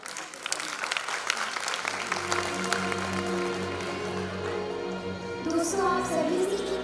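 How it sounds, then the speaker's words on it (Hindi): A concert audience at a tribute music show applauds in a dense, continuous roar of clapping, with musical instrument tones rising toward the end. "तालियों की गड़गड़ाहट से इस संगीतमय सफर का स्वागत करें"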